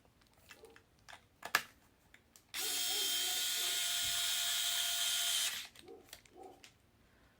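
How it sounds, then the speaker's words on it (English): An electric screwdriver drives screws into a thermal assembly in one steady, loud three-second whir, with scattered handling taps and clicks before and after. "All right, let's screw those in."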